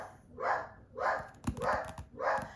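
A dog barks repeatedly at another dog walking past, four evenly spaced loud barks close by with no talk.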